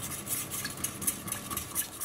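A fork stirs Port-deglazed caramel in a pan, giving a steady scraping, rubbing rattle with light metallic ticks, close and moderately quiet with no talking.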